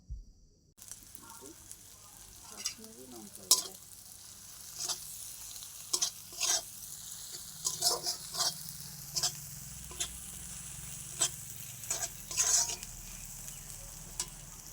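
Egg curry masala sizzles and fries softly in a pan, spiced with Kashmiri red chilli powder, while a utensil scrapes and stirs it in a series of repeated short strokes.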